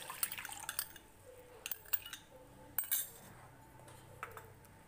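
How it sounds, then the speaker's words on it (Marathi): Soaked cumin water is poured into a cooking pot for a jeera drink, giving a faint, soft trickle with a few light metallic clinks and drips. No one speaks. "एक पातेल्यामध्ये हे पाणी ओतून घेते आहे"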